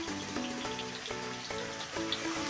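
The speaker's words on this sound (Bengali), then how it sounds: "এখানে বিরিয়ানির আলুটা ভেজে নিচ্ছি।" Potatoes for biryani fry in hot oil with a continuous crackling sizzle and a steady tonal hum underneath, moderately loud and without talk.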